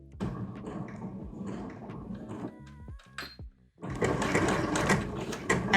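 Home sewing machine stitching shirring elastic into fabric, a few short bursts and clicks at first, then a brief pause before a sustained, even run of rapid stitching.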